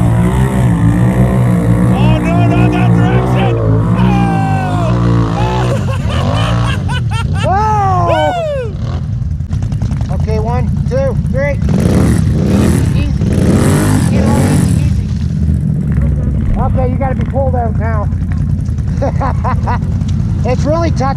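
Can-Am Renegade XMR 1000R ATV engine revving hard on a touchy throttle off-road, with loud rising and falling engine whines close by and people talking and shouting throughout.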